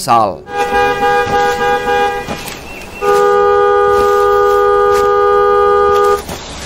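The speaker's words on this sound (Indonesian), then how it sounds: "terdengar suara klakson mobil dan beberapa orang sedang berbicara dari arah sisi hutan" A loud car horn blares in long sustained blasts, one after another, close by, with faint voices and outdoor noise underneath.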